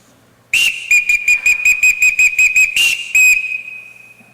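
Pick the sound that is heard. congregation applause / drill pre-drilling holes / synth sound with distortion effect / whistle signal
whistle signal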